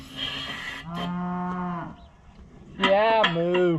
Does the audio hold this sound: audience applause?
no